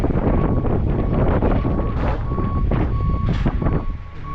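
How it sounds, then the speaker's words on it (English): Trucks manoeuvre on the vehicle deck of a ferry crossing to Kangaroo Island, their reversing alarms beeping in a steady repeating pattern over rumbling engines and gusty wind noise. "Trucks manoeuvring."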